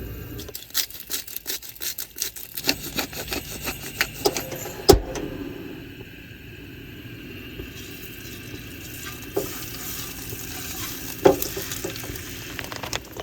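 A steelhead fillet fries in a pan on a road trip, giving a continuous crackling sizzle dotted with sharp pops and clinks of utensils. Occasional louder spatters break the steady hiss.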